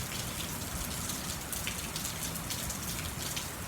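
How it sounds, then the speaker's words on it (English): Steady rain falls outdoors on a yard, a dense even patter of drops hitting surfaces that holds constant throughout, with no voices. "I'm sitting out here watching the rain."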